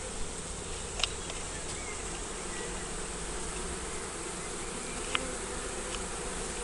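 A swarm of bees buzzes continuously and densely as it moves into a new hive outdoors, a steady faint-to-moderate hum with a couple of tiny clicks, no voices.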